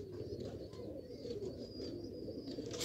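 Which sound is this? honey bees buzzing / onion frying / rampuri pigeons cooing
rampuri pigeons cooing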